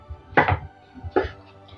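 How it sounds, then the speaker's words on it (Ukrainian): Two crisp knife chops on a board as mushrooms are cut into roughly 1.5 cm chunks for a salad, close and distinct with a short pause between strokes. "Найперше мені потрібно порізати гриби"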